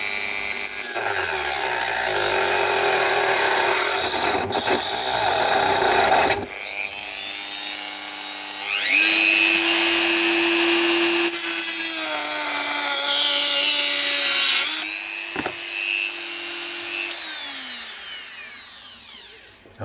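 A Dremel 4200 rotary tool cuts through material in loud, high whining bursts that shift in pitch as the speed changes, with short pauses between passes and a slower final run at the end.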